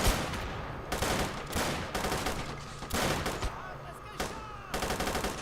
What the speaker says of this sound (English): Does manage to take out a Commando with the machine gun though.